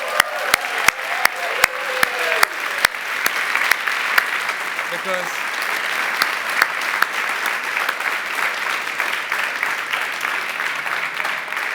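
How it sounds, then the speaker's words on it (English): Applause fills the hall at an award ceremony, warm and continuous. A few sharp, louder claps ring out near the start, and a voice speaks briefly over the clapping early on. "a big round of applause and special thanks to Jaime Romani"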